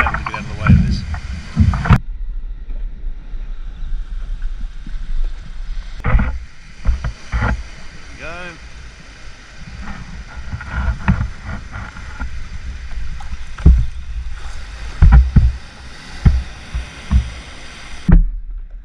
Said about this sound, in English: I'm just going to have to paddle to get out of the way of this.